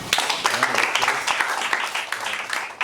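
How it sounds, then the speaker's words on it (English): Applause rises from an audience at a school debate at Highscope School in Ojodu, Lagos, a dense and continuous patter of clapping with a voice speaking over it. "a round of applause for everyone"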